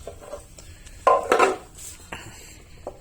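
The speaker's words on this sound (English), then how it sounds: "now let's clean the pan" Metal clatter from a Mazda transmission fluid pan being handled and cleaned, a few sharp clanks and scrapes close by in a quiet space.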